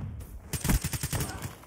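Gunfire in Call of Duty Black Ops 3 multiplayer, a short rapid burst of shots rattling off in quick succession after a brief pause, fairly loud and close.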